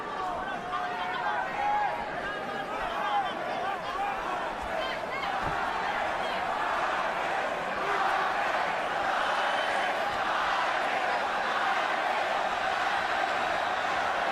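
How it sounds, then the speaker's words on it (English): A large boxing arena crowd at the third Pacquiao vs. Marquez fight chants and roars in a steady, dense wall of sound, with a commentator talking over it. "Judging by the chants, the crowd's about 50-50."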